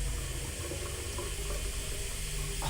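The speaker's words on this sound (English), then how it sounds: "I caught the tap running on its own." Steady rushing stream from a household water tap left running, continuous and fairly close, filling the room with an even watery hiss in a quiet home.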